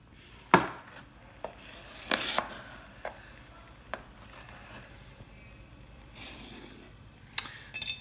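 A knife cutting a piece of tres leches cake topped with cinnamon: a few scattered, quiet taps and clicks against a plate, separated by soft pauses, close and faint.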